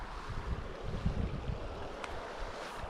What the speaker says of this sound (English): We've been lucky the wind has actually been kind to us this afternoon.